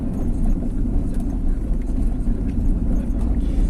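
A Volkswagen T4 van drives along a road between Stargard and Szczecin, its engine and tyre noise a steady low rumble heard from inside the cabin, continuous and without breaks.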